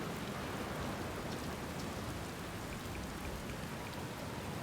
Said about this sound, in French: une chance que je supporte bien la pluie